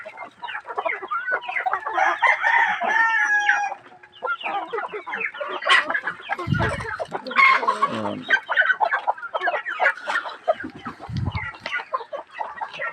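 Chickens and roosters feeding on a farm, with dense, overlapping clucks and squawks close by, occasional crowing-like calls, and low thumps mixed in, continuous throughout.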